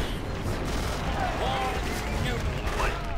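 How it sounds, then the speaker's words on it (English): Rumbling bombardment in the Axis & Allies (2004) strategy game: a steady stream of muffled blasts and artillery booms runs under a voice, with faint whistling tones rising in the mix. "We are getting bombarded."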